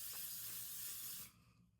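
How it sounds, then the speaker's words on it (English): L'Oreal setting spray is sprayed in one continuous close hiss lasting over a second, then cut off abruptly, leaving a faint quiet tail. "obsessed with this setting spray by L'Oreal"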